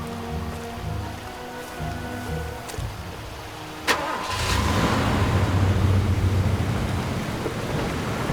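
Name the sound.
car driving in the video game Far Cry 2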